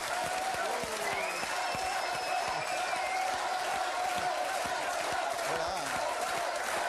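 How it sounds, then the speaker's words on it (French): Studio audience at a French evening television game show bursts into sustained, dense applause with scattered cheers, steady and loud throughout with no pause. "Je vous demande d'accueillir et d'applaudir Monsieur Bertrand Blier"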